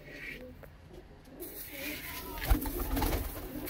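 Pigeons, freshly bred Punjabi chhatri-type birds offered for sale, coo softly in the background with intermittent low murmurs, rising slightly toward the end amid faint ambient noise.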